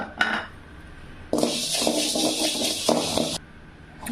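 Roasted urad dal poured out of a hot pan while making homemade curry masala powder: a short rattle, then a sustained close clattering, rustling pour of dry lentils against metal lasting about two seconds, alone with no talk.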